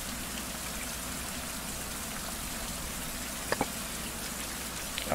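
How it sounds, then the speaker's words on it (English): Steady rain falls in a survival video game, a dense, even patter that continues without a break, with a couple of faint soft taps just past the midpoint. "We're probably going to have to go out in the rain."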